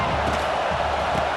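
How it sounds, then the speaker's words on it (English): Stadium crowd in College Football 26, Texas A&M against Florida, a steady, full roar of many voices that stays even and loud throughout the brief moment. "This crowd knows this defense needs them right now."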